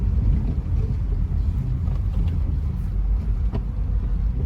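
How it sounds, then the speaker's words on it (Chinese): A morning traffic jam in Chongqing rumbles on, a low, steady drone of idling car and bus engines close by, with faint wind buffeting and no voices. "堵得一动不动"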